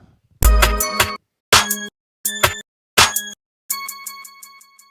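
Bright metallic percussive hits ring out in a spaced sequence, the last one trailing into softer delay echoes that bounce back and forth and fade away.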